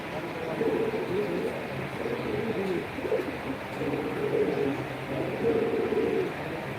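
Pigeons coo in a loft, their low rolling calls repeating in overlapping waves at moderate distance over a steady background hum.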